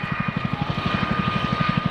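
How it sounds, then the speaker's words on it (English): An RAF Chinook helicopter getting airborne at an airshow, its rotor blades thudding in a fast, steady rhythm under a droning engine whine, loud and continuous. "RAF Chinook gets airborne to go off and hold"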